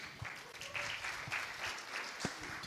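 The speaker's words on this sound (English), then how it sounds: "a big round of applause to Juliana Rotich" An audience applauds a keynote speaker, Juliana Rotich, at an AI summit breakfast in Kenya, with steady clapping heard throughout.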